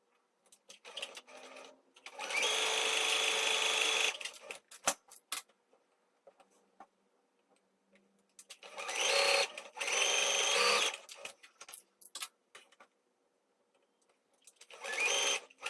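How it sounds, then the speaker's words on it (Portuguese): A sewing machine stitching strips of fabric for a small patchwork pouch, running in three steady whirring bursts separated by quiet pauses and light handling clicks, close and moderately loud. "vamos lá na máquina e vamos costurar esses 4 tecidinhos"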